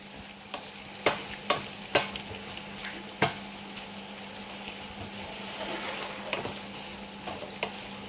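Crickets fry in hot oil with a steady, close sizzle, broken by several sharp clacks of a utensil stirring against the pan at irregular moments.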